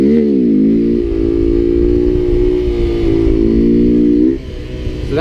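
Honda Grom motorcycle held in a slow wheelie on the rear brake, its small engine droning loud and close at steady revs with slight pitch shifts, then dropping off abruptly near the end.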